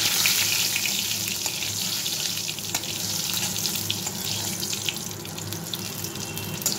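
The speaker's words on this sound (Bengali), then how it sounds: "এই তেলটার মধ্যে এখন আমি একটু গোটা জিরে দিয়ে দিলাম, আর তেজপাতা আর শুকনো লঙ্কা।" Whole cumin, bay leaf and dried chillies sizzle steadily in hot oil, a close, continuous frying hiss with faint crackles and pops scattered throughout.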